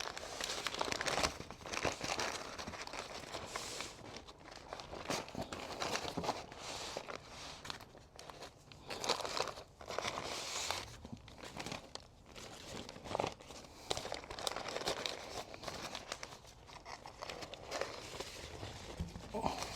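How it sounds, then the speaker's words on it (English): Foil or butcher paper is peeled and crinkled off a smoked grassfed Wagyu brisket, with continuous close rustling and crinkling, faint and steady throughout. "Moment of truth, let's get this unwrapped."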